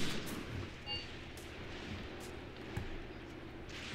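Gunfire and artillery in the Graviteam Tactics war game, faint scattered booms and shot cracks spread over a low rumbling battlefield background, with no voices.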